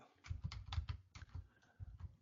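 Keys clack on a computer keyboard as a short Linux command is typed, a quick burst of about a dozen faint, close taps in uneven rhythm with no talking.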